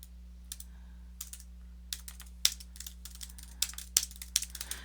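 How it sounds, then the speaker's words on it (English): Someone types a short summary on a computer keyboard, with scattered, irregular key taps and a few sharper clacks over a steady low electrical hum, fairly quiet and close. "you'll type your short summary"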